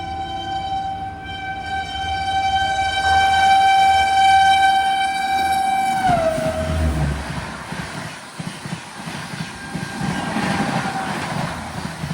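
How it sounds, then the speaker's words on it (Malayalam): The Thiruvananthapuram Rajdhani train passes with a long, loud horn blast whose pitch slides down as it goes by, followed by the heavy, roaring rumble of the coaches rolling past. "അങ്ങനെ നമ്മുടെ തിരുവനന്തപുരം രാജധാനി കൂടെ കടന്നു വരികയാണ്."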